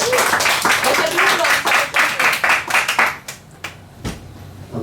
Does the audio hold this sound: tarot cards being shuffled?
no